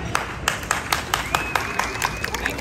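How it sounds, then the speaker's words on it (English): An audience claps briefly during a street performance to vote on a trick, a thin scatter of claps with a few sharper hand hits over a crowd murmur. "If you would like to see the balls, clap now."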